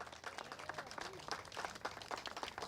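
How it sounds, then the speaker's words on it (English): Audience at a community event on affordable housing clapping, a fairly faint and uneven patter of hands from a modest group, with some scattered voices mixed in. "let's give them a round of applause"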